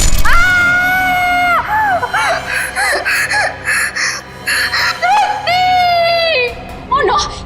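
A woman screams in terror in a Hindi crime drama scene, long sustained high cries broken by gasping, whimpering sobs, then another drawn-out scream, loud and close.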